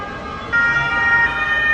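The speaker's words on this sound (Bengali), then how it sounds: "দেখো কতগুলি ফায়ার সার্ভিস, এই যে ফায়ার সার্ভিস আসছে" Fire service trucks rolling past on a street in Turin, Italy, their sirens wailing steadily and growing louder over continuous road traffic noise, with no talking.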